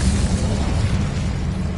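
The Incendio fire spell bursts out in Hogwarts Legacy as a dense, roaring whoosh of flame with a low rumble that holds steady for under two seconds, with no voices.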